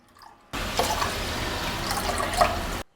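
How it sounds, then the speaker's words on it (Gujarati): Water pours steadily into a mixing bowl for a couple of seconds after a short quiet start, a close, continuous splashing flow. "મિક્સિંગ બાઉલમાં 2 કપ પાણી ઉમેરશું"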